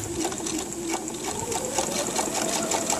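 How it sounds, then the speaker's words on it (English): A sewing machine stitches a jeans hem folded over the existing hem, running steadily with a fast rhythmic mechanical whir and ticking close by, alone and continuous. "I use the existing hem and just bend it over and just sew it right on top of the original one"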